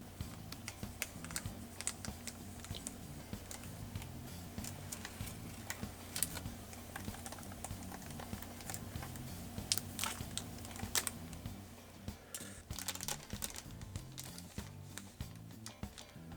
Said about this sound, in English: This has this nice little PlayStation branded like tear strip. So let's open it.